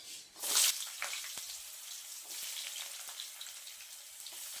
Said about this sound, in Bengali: এরপর পটলটা দিয়ে দিচ্ছি।